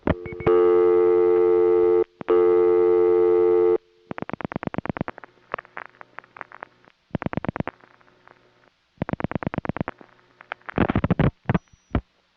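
On a Manhattan telephone line, a call routed through the Murray Hill 6 #1 crossbar office with register senders gives steady tones followed by bursts of rapid pulsing and clicking switching signals, in close, loud, separate segments.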